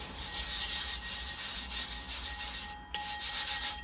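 A small piece of wood rubbed against the grit-charged wheel of a Nebraska Blades clipper blade sharpening machine, a continuous gritty rasping scrape with a brief dip near the end.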